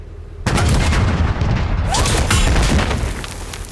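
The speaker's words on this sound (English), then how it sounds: "Commence the barrage." An artillery barrage from a WW2 comedy film, with booming explosions and heavy gunfire breaking out suddenly and continuing as a dense, loud rumbling roar with scattered blasts, faintly fading near the end.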